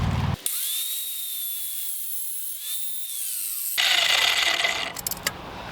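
A power tool runs steadily for about three seconds, trimming the ends off a feed ramp for a concrete rocket stove, with a steady whine that shifts pitch slightly before it cuts off and leaves rougher scraping noise.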